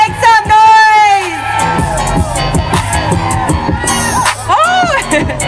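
Loud crowd cheering, whooping and shouting at a live event in Hawaii, with high whistles and cries rising over dense, continuous audience noise throughout.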